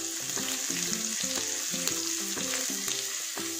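Garlic and ginger frying in a pan for a pork broccoli dish, a loud close continuous sizzle with crackling pops and the scrape of stirring, and no one speaking over it.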